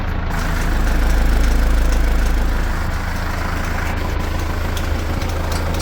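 Kubota tractor engine fitted with a snorkel exhaust idling loud and close, a deep steady throb with a rattling knock that eases slightly partway through, no voices.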